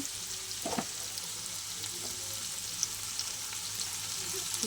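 Note shak (amaranth greens) fry in a pan with a steady, close sizzle and light crackling, broken by a few soft stirring scrapes and taps.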